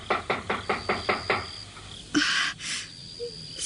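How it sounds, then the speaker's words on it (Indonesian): Knocking on a wooden door, a rapid run of about seven evenly spaced raps, moderately close, followed by a brief scrape and muffled clatter. "antara Nyai Sakyamurti dan Warapalupi terhenti oleh suara ketukan pintu"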